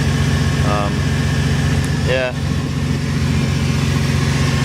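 An old Ford engine idles in a steady, even drone with a low rhythmic throb, close and continuous; a person speaks briefly over it.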